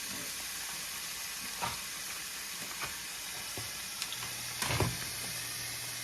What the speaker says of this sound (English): So I've got the sausage, I'm gonna cook it on medium heat